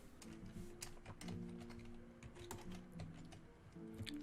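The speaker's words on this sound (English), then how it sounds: "we're going to type get line." Rapid clicking keystrokes on a computer keyboard, a steady stream of close, fairly quiet taps with small irregular pauses and no talking.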